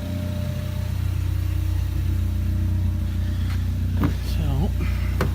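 Catless Ford Focus ST engine running at a steady, droning idle, close and continuous, with a few brief sharp noises and a short whine near the end.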